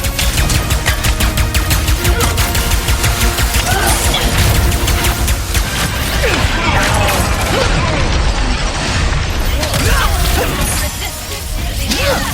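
Rapid gunfire from the video game Ratchet & Clank: Rift Apart rattles loudly and continuously alongside mechanical clanks and crashes, dense bursts filling the whole stretch.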